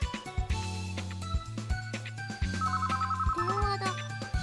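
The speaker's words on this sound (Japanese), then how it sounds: "電話だ、誰からだろう。" Telephone ringing in a video game, a repeating electronic ring tone over looping game music with soft effects.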